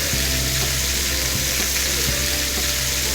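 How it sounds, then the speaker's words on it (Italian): Meat scraps sizzle and fry steadily in a pan while browning for a veal base, a dense continuous crackle, loud and close, with no voices. "li allarghiamo bene e li lasciamo proprio così a sfrigolare"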